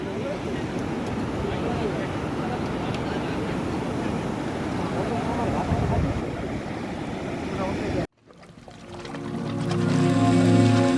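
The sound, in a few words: water overflowing from a full dam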